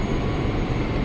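A CRRC commuter train bound for Angke roars past at close range, a dense, loud rumble of wheels and motors with no pauses.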